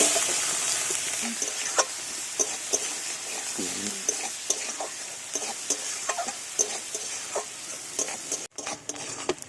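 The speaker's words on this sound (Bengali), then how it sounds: "পেঁয়াজটা লাল লাল করে ভেজে নিয়েছি।" Chopped onion fries in oil with spices for a Bengali crab curry, a steady close sizzle broken by scraping stirs of a spoon against the pan.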